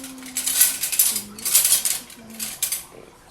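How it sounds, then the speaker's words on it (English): A straw stirs a freshly blended veggie smoothie, giving bursts of clinking and scraping against the container, with a few brief tonal squeaks between strokes. "use a straw, mix it up"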